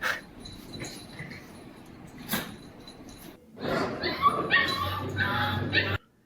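A dog on a playback video barks, yips and whimpers in short bursts, faint at first and then louder and busier near the end, against a noisy background.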